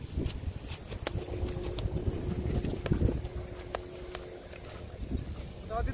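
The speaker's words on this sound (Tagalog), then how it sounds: "malakas na yung hangin" Steady strong wind roars and buffets the microphone outdoors during a kite flying session, a continuous low rumble with scattered rattles and faint voices underneath.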